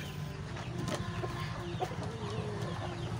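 Shamo chickens, roughly one-kilo birds, cluck softly and intermittently nearby, with low murmuring calls over a quiet farmyard background.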